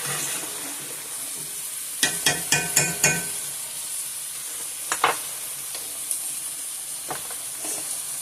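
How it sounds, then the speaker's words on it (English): A spoon or masher works mashed chicken livers and rice around a sizzling pan of dirty rice, with a quick run of sharp scraping knocks early on, then scattered single taps over a steady frying hiss. "I'll mash my livers down so it can go inside the rice. So I'll just keep giving that a stir."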